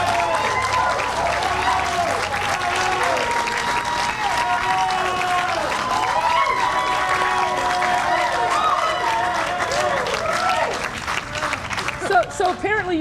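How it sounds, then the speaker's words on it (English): An audience at a community development event in Auburn Gresham cheers and claps loudly, dense sustained applause with whoops throughout before easing off near the end. "So apparently you brought your cheering section."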